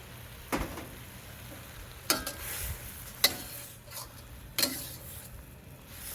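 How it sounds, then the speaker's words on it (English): Vinegar added to a hot wok on an outdoor wok station sizzles under a steady frying hiss, with several sharp metallic scrapes and clicks of a utensil against the pan at irregular intervals. "I'm going to add a tablespoon of the vinegar"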